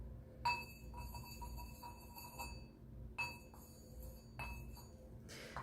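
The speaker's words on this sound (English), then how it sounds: "have my singing bowl here" Two struck singing bowl tones ring out clearly, each sustaining a bright shimmering resonance that slowly fades, heard alone in a quiet room.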